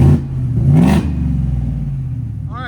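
Supercharged 850+ hp Ford F-150 5.0L V8 with headers and Black Widow exhaust, a loud close engine roar that swells in a brief rev near the start and then holds a steady, heavy idle rumble.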